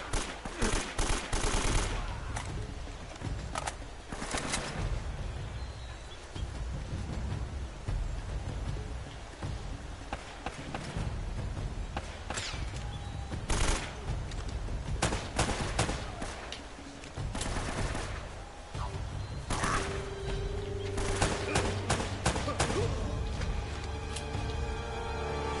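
Rapid bursts of automatic gunfire and scattered single shots ring out in the Uncharted: Drake's Fortune plane-wreck chapter, loud and continuous with brief pauses between volleys.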